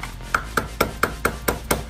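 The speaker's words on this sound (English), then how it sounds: "we're just gonna take a flathead screwdriver and just kind of get it in here, and then take a hammer" A hammer taps a flathead screwdriver wedged against a motorcycle chain on an Aprilia RSV4 during a 520 chain and sprocket swap, giving seven evenly spaced sharp metallic strikes, close and clear with no talk.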